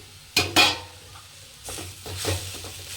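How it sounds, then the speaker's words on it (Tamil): A spoon stirring beetroot stir-fry with grated coconut in a pan, with two sharp scrapes and clinks near the start, then softer scraping over a faint sizzle, close and without talking. "நல்லா ஆட் பண்ணி நல்லா கரக்கி எடுத்துக்கலாம்"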